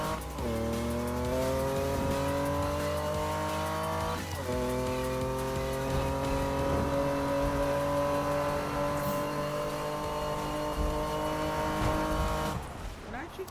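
A car engine drones steadily in Need for Speed during drifting play, holding a sustained rising pitch with a gear-shift dip partway through and tire noise beneath, while a voice talks over it.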